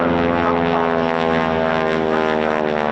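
A two-seater Spitfire propeller aircraft at the RAF Cosford air show, a loud, steady, close engine drone with a throbbing propeller beat, heard without talk.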